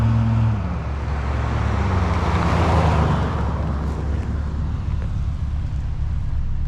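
A Chevy Blazer fitted with a Cherry Bomb muffler drives past outdoors, its deep engine drone and tire roar building toward the middle and then fading as it moves away, loud and close with constant road noise.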